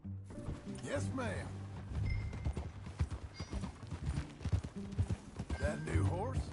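Horse hooves clip-clop steadily on the ground in Red Dead Redemption 2, a close, regular walking rhythm with occasional neighing, while characters talk over it.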